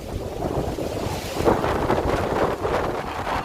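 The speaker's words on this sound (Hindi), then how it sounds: "इतनी तेज़ हवा है कि क्या ही बताएंगे" Strong outdoor wind blows straight into the microphone, a loud continuous roaring buffet with surging gusts and no speech.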